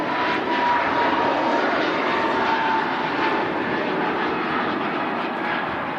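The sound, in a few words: TUI Boeing 767 airliner engines at Manchester Airport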